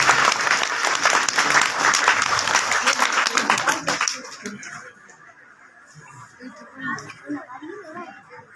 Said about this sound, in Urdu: تو تالیاں ہو جائیں